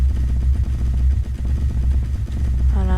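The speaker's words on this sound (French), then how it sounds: "voilà, ça fait un peu un bruit de moteur" A go-kart engine in the game Scrap Mechanic revs and accelerates, a buzzy low motor drone with rough clatter that swells and dips before a rising tonal whine enters at the end; no talking.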